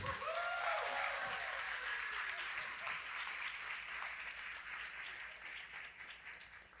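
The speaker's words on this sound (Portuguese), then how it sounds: "Uma salva de palmas para Elizabeth Marim Ribas." An audience at an academic talk applauds steadily and fairly loudly, dense clapping that gradually fades over several seconds, with a brief voice at the start.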